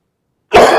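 Silence, then a single sharp, close cough bursting out near the end.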